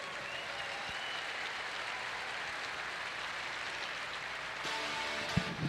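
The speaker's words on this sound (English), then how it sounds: "Ladies and gentlemen, a fine round of applause for our career win coaches." A crowd at a 2002 Iowa state semifinal basketball game in a gymnasium applauds career-win coaches, a sustained wash of applause that swells slightly near the end.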